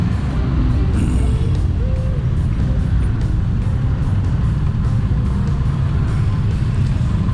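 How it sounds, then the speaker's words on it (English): Steady road traffic on the way to Angeles City in the Philippines, a continuous loud rumble of car and vehicle engines with passing vehicles throughout, heard from within the flow of traffic. "It's a little traffic today, but it ain't too bad"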